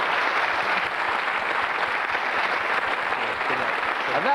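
A studio audience on a 1995 game show claps steadily, a dense, even wash of applause that fills the whole stretch without a break.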